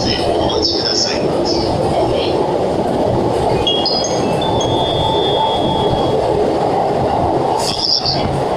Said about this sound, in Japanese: 3番線から大船駅へ発車いたします。